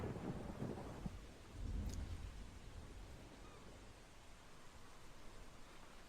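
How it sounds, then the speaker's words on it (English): Steady rain hiss fills the Endless Days thunderstorm, with a low rumble of thunder rolling in near the start and swelling again around two seconds before settling back into an even, moderately loud downpour. "A thunderstorm. Nothing ever bad happens when it's a thunderstorm."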